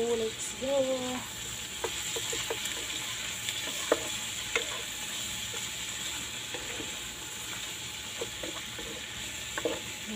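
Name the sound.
stirring adobo kangkong with shrimp in a pan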